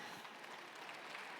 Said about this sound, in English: Give Punk a round of applause.